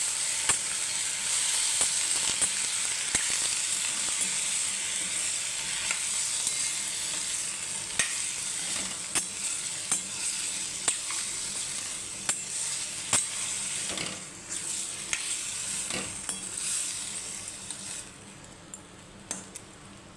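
Bottle gourd curry sizzles in a pan while being stirred, a continuous hiss punctuated by repeated sharp clinks of a spoon against metal, heard close with no speech.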